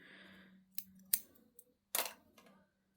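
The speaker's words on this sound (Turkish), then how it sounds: "Bir zincir çekerek ipimi kesiyorum." Scissors snip through cotton crochet yarn in a few crisp, close cuts, with a double snap and a longer rustling cut near the end, over a quiet background.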